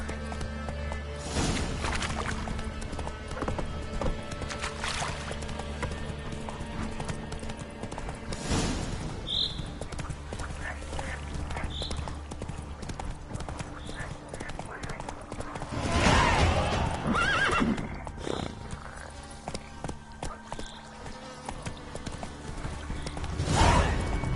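Roach, a horse in a video game, gallops with rhythmic hoof clip-clops and gives an occasional neigh, while a voice talks over the hoofbeats.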